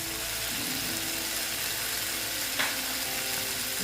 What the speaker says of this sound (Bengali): এবার আমি মাছগুলো দিয়ে দিচ্ছি দেখো মাছগুলো সব দিয়ে দিচ্ছি